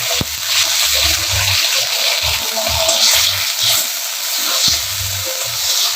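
Ginger, garlic and onion paste frying in hot oil with cumin seeds: a loud, continuous sizzle close by, with intermittent stirring scrapes running underneath.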